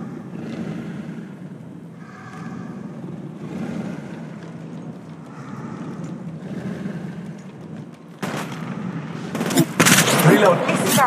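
Gunfire in the mobile shooter game Apex Legends Mobile comes in loud bursts near the end. Before that there is a stretch of game voice chatter and a low background hum.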